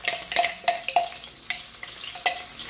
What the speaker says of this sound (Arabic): نخليهم يسخنو، ندير معاهم حبيبة بصل كنت طحنتها